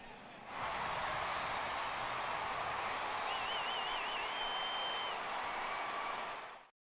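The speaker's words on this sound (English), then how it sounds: "this home crowd likely to give him a standing O as he departs with the shutout in check" Crowd applause and a standing ovation in the baseball video game MLB 18, a steady broad roar of clapping that swells in quickly and holds at full strength for several seconds before cutting off.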